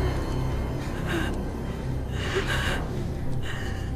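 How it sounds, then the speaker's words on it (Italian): Labored, gasping breaths from a dying man, drawn in several heavy, rasping pulls close up, alone with no talk over them. "Ogni respiro è più difficile del precedente."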